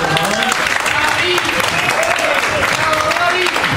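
Audience at a live jazz café in Dorian Café claps continuously in a dense, loud wash of applause, heard close, with a voice speaking over the clapping throughout.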